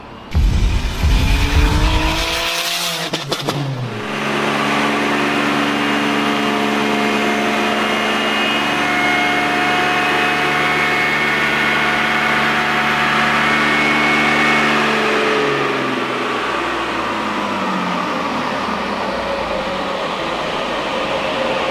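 A supercharged Toyota Hilux runs on a dyno: the engine revs hard, then holds a loud, sustained high-rpm roar with a steady drone before winding down near the end, close up and without talk.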